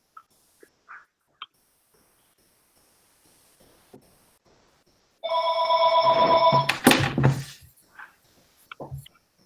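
A telephone rings with an incoming call during an online school board meeting, a loud electronic ring of a couple of seconds with a clattering knock at its end, between faint scattered clicks.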